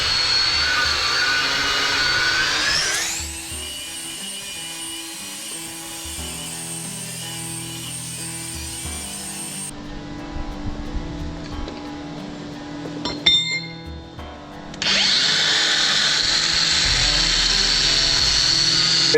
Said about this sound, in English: take a flat disc and just kind of clean up this area, clean up this area